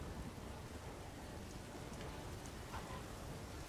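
Storm in the video game The Witcher 3: steady, faint rain hiss with a soft low rumble of thunder underneath, continuous and even for the whole stretch.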